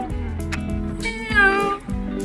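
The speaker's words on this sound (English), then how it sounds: "It's a cat. Of course it's a cat." A domestic cat meows in a guessing-game of animal sounds, several close, clear meows with rising and falling pitch, one longer drawn-out cry in the middle, loud and alone.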